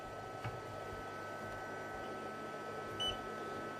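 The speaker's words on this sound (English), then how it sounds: "You can hear the fan swaging away there." A Hartke Model 2000 200-watt bass amplifier's cooling fan runs with a steady faint whirring hum and tonal whine, with a couple of small clicks and a brief chirp over it.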